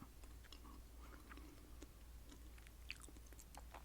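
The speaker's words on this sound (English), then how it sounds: "So this is a tea that I have to chew a tiny bit." Soft, quiet chewing with small crunchy bites, repeating irregularly against a low steady background hum; no talking.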